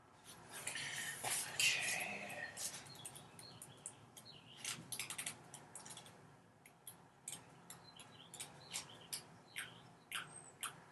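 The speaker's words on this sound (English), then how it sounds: "can the listeners hear the birds outside my window?" Birds chirp in short, scattered bursts at a moderate distance, with a louder flurry early on and brief repeated calls spaced through the rest.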